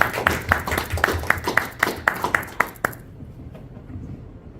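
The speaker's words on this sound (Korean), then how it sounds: "큰 박수로 맞이해 주시기 바랍니다." Audience at a history lecture in Atlanta welcomes a speaker with brisk, evenly spaced hand claps for about three seconds, then the clapping stops abruptly, leaving a quiet room.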